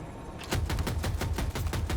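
A 30mm helicopter cannon in the video game Battlefield 2042 fires a rapid burst of sharp, evenly spaced shots, loud and close, following a brief quiet lead-in and continuing to the end.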